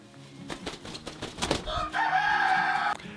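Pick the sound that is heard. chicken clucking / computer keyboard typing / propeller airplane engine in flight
chicken clucking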